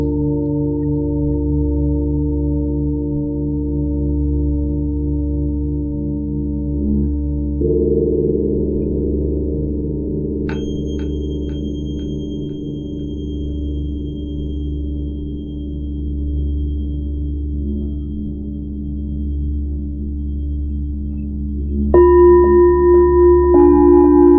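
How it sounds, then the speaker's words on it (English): Several pitch-tuned sound healing bowls ring together in sustained, overlapping tones, with new bright strikes entering partway through and later, layering into a long, shimmering drone with no talking. "The effect of these bowls is they are pitch tuned in specific notes that when you play them together"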